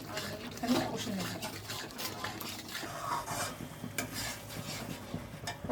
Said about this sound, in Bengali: এবার পুরো মশলাটাকে আমি একটুখানি কষে নেব